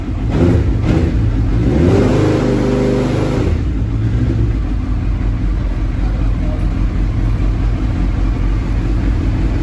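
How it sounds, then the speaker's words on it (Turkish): A Suzuki Hayabusa GSX-R 1300 with an F1 fault-light problem is revved: the engine note climbs and falls over a couple of seconds, then drops back to a loud, steady, close idle. "Şimdi motorumuza gaz verince F1 arızası yakıyor."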